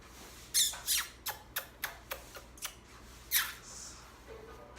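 A pet parrot gives a series of sharp, rasping squawks, about eight bursts in irregular rhythm, fairly close and moderately loud over a faint background hum, with no talking.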